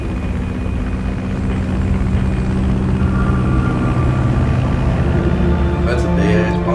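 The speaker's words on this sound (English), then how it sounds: "That's a big ass plane." A large aircraft's engines drone in a steady, loud roar throughout a cutscene in Metal Gear Solid 3: Snake Eater, with a faint rhythmic rattle near the end.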